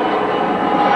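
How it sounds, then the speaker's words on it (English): A plane passes overhead, a steady broadband roar filling the whole second with no clear rise or fall, as if the aircraft sits near its closest point. "I'll wait for this plane to go over."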